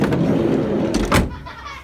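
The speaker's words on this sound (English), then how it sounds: "Always check your bolts are in before you shut the door" Sliding or side door of a VW Transporter T5/T6 van slammed shut, a single solid thud with a brief rattle, close and loud over steady background hum.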